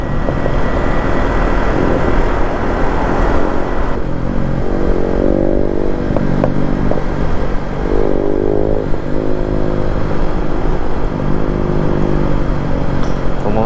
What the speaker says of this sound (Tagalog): Putok-putok itong wave na to tambutso.